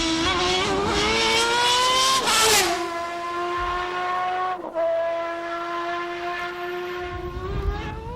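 A Newman Haas Lola race car testing at Sebring screams past, its high-pitched engine note climbing sharply, dropping as it brakes for a tight hairpin, then droning steadily as it pulls away, loud and close.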